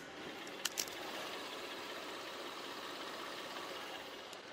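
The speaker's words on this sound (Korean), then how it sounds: "정말 정숙하고 조용한 엔진 소음에다가 손으로 느껴지는 떨림, 진동 뭐 전혀 없는 그런 엔진" A Hyundai Grandeur HG300 with high mileage idles quietly and smoothly, with a steady low hum continuing alone, apart from a couple of brief clicks near the start.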